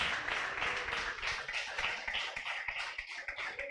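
A church congregation applauds during a Bible study service, with a dense patter of hand claps that holds steady across a few seconds.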